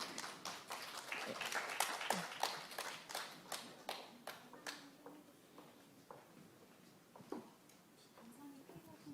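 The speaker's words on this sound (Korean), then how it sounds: "더 큰 박수 부탁드리겠습니다." Scattered hand claps from a small audience at a Chuncheon cooperative day sharing session, distinct sharp claps that thin out and die away after a few seconds, leaving room noise and murmured talk.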